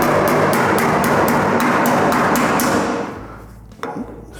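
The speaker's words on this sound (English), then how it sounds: "So you'll hear the head of the hammer's right there." A hammer raps a metal body panel on a Ford Falcon show car, about a dozen quick even knocks close up, then a pause and one more sharp tap.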